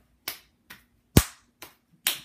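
A person claps their hands during a neurological exam: five separate, sharp claps spaced roughly half a second apart, close and dry in a quiet room, with the middle clap the loudest.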